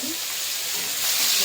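Onion and cloves frying in hot oil in a pan, making a steady, close, loud sizzling hiss that swells slightly toward the end.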